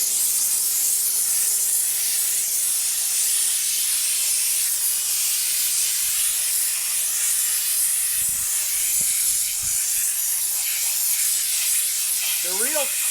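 A steam cleaner sprays a Volkswagen car wheel with a loud, continuous hiss that runs without a break from start to finish, close to the listener. Faint knocks sit under the hiss near the end.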